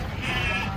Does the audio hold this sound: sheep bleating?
yes